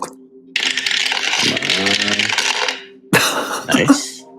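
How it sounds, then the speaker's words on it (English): A big handful of tabletop game dice clatters onto a table, a long rattling tumble followed by a second burst of clicking as they strike other dice. "Why did you roll like 30 dice?"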